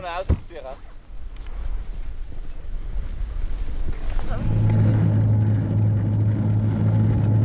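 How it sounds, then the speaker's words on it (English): A 100-horsepower snowmobile engine starts droning steadily midway through, loud and close, after a stretch of wind noise and speech from a voice-over narrator. "A 100-horsepower snowmobile ferries her to the rescue station."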